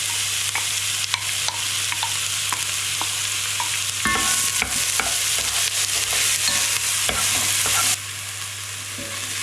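Onions hit hot bacon grease in a pan and sizzle loudly and continuously, with a spoon stirring and scraping in close, a brighter surge of frying partway through.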